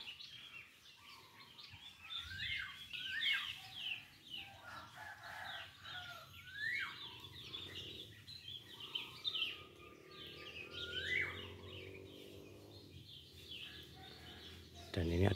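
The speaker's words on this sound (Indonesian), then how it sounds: "menikmati kicauan burung-burung yang berkicau" Birds chirp and sing around a tidy grave complex, a rooster crowing among the calls; repeated sharp chirps and short phrases sound at moderate distance over a steady outdoor background.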